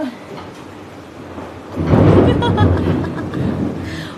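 Steady rain hissing in the background as a deep roll of thunder swells up and rumbles for a couple of seconds before fading.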